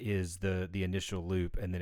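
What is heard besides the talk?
No everyday noises stand out.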